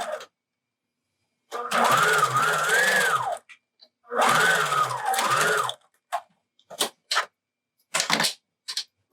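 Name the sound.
sewing machine stitching fabric mask side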